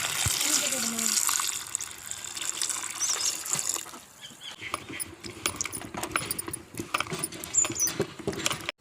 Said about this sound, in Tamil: இதை தண்ணி ஊற்றி கழுவிக்கிடலாம்.